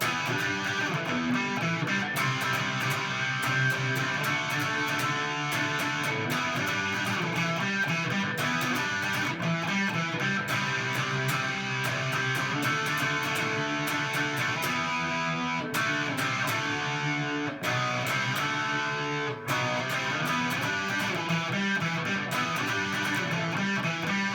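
Electric guitar plays a driving, distorted bridge riff from a rock song, repeated steadily with brief breaks, loud and close throughout.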